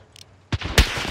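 Sniper rifle gunfire in a Call of Duty Warzone match, two sharp close shots in quick succession with a ringing tail, loud and isolated.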